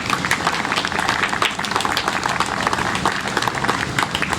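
A crowd at an outdoor 9/11 memorial anniversary ceremony in Levittown gives sustained, dense applause that stays fairly loud and steady for the whole stretch, with no speech over it.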